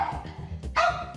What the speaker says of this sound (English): And now she's barking